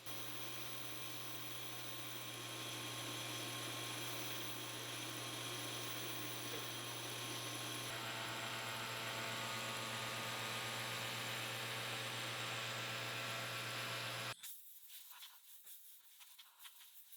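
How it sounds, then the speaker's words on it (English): CNC mill center drilling small holes in a workpiece for a clock, a steady loud machining whine with spindle hum throughout, then it cuts off sharply near the end, leaving a quieter room. "But I'm only center drilling them for now."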